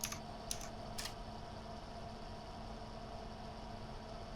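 A few quick computer keyboard taps right at the start, faint and close, then a steady low hum carries on alone.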